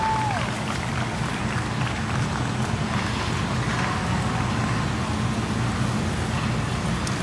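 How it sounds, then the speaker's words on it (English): Applause from a crowd at a junior heifer cattle show, a steady, dense wash of clapping that fills the whole stretch without pause. "Let's give him a big round of applause."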